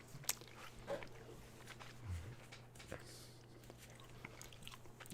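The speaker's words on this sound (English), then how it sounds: "This is probably like I'm like chewing in your guys' ear." Close, quiet chewing of ginger chews, with soft biting and squelching bursts spread unevenly through a low background hum.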